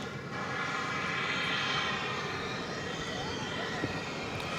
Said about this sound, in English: Flight 679 coming in from Phoenix as an Airbus A321.